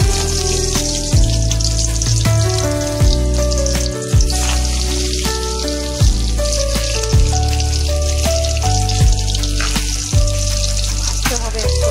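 Onion-filled mustard oil puli pithe frying in oil, a continuous loud crackling sizzle with scattered pops and occasional clinks of a utensil, close and steady throughout with no talk.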